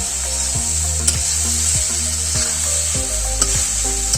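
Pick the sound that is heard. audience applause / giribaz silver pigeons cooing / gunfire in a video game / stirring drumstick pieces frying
stirring drumstick pieces frying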